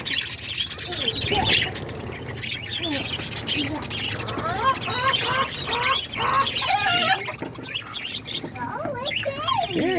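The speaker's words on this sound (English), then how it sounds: "there's all the little budgies right there" Many small budgies in a mixed aviary chirp and twitter constantly, a dense, close chorus of bright tweets and squawks layered over one another.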